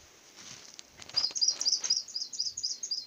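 Coal tits, small songbirds caught in a net while being trapped, call in a rapid series of thin, high chirps that grow denser toward the end, faint and close with no talk.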